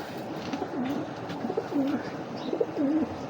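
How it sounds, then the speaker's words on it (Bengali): A big red checker pigeon, a male courting a hen, coos in several short rolling phrases, close and fairly quiet over a faint background hum. "বিগ সাইজ একটা কবুতর"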